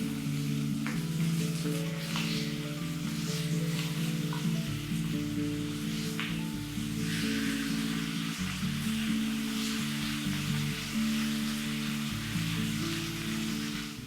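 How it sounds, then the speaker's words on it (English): Marinated cabbage pieces searing in a hot pan, a soft steady sizzle heard over a low humming drone that shifts in pitch now and then. "Sear them nicely on each side for about 3 to 5 minutes"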